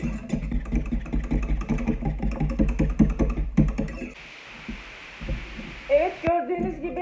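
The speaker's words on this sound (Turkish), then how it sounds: "Evet, gördüğünüz gibi peltem kaynamaya başladı." A pot of thick cornstarch milk pudding boils with rapid, regular soft plops for several seconds. Then comes a quieter stretch of hiss and a few louder knocks near the end.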